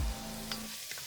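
Onions and smashed garlic sauté in hot oil, a short, moderate sizzle with a faint hum underneath and a couple of light clicks.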